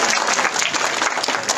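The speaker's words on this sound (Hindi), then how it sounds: "एक बार ताली बजा दो भाई।" Crowd clapping at an outdoor public gathering in Najafgarh, Delhi: dense, steady applause from many hands, loud and close, filling the whole moment.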